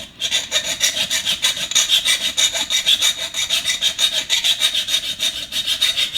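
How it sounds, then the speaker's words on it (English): A file rasps down a plastic nub on a radio bezel in a Toyota FJ, steady rapid back-and-forth strokes, close and fairly loud, with no talking. "file down that nub and make it so it's flat, so this sits flat on the radio"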